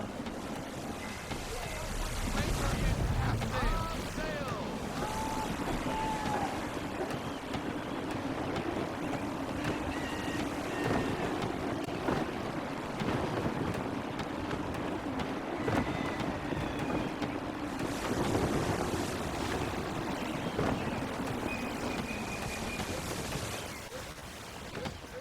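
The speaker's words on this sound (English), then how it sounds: "Gusty winds can be difficult to manage." Steady gusting wind over open sea while sailing a ship in Assassin's Creed III Remastered, a continuous rushing roar with low rumble and faint background tones, swelling and easing throughout.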